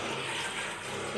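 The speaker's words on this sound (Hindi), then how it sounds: "ये मैंने पानी ऐड कर दिया इसमें," Water poured into a pressure cooker holding lentils, a steady close rushing stream that fills the whole short moment.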